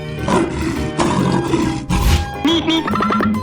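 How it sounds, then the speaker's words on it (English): A lion roars loudly in a 3D animal slide video game, several close, rough roars and grunts in quick succession, mixed with brief game sound effects. "Lion."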